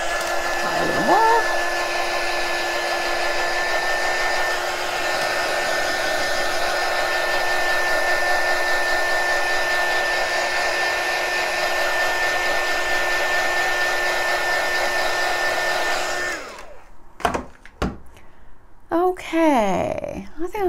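A hair dryer drying a homemade marshmallow heart kabob craft runs loud and steady close by, then cuts off near the end, leaving handling noises and some brief sounds.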